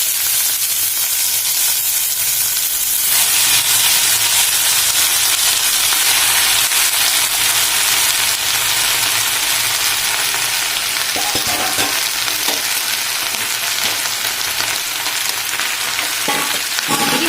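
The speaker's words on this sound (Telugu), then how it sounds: "ఇప్పుడు ఈ మెంతికూరని ఇప్పుడు ఇందులో వేసేద్దాం. కాస్త దూరగా వేయించుకోవాలండి" Loud, continuous sizzling of fenugreek leaves frying in hot oil, with occasional scrapes of a spatula stirring the pan.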